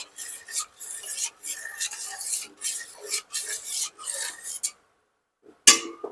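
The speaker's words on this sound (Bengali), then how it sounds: "এদিকে দুধটা ক্রমাগত একটু এইভাবে নাড়াবো" A spoon stirs milk in a pot for chushi pitha, making repeated rhythmic scraping strokes against the pot, close and clear, ending in a short pause and one sharp clink.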